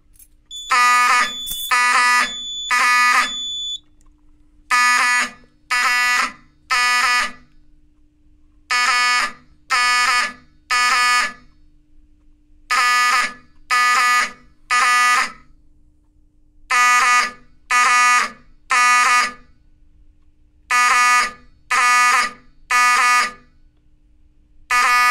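A Simplex 4004 fire alarm system under test sounds through Wheelock alarm horns, loud repeating blasts in a temporal pattern of three separated by pauses, with a brief strobe-like tone at the start.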